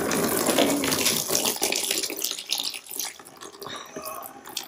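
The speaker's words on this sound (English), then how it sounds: "So I'm going to go ahead and drain this out again now." Water-heavy coolant drains out of a BMW M3 cooling system with the bumper removed, pouring and splashing in a steady gush close by.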